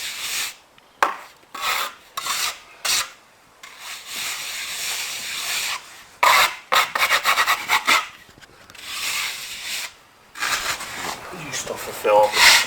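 A float rubs across fresh sand and cement render to smooth it, giving rough, gritty rasping strokes of varying length in bursts with pauses, fairly close, with occasional talk between them.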